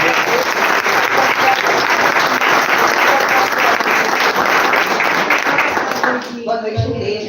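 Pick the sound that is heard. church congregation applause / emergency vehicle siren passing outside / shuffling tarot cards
church congregation applause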